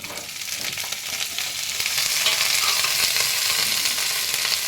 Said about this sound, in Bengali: এবার আমি মাটনটা দিয়ে দিচ্ছি।